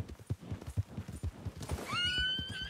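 A horse whinnies in Red Dead Redemption II, a rising high-pitched neigh over a steady rhythm of hoofbeats and game ambience, fairly loud and close.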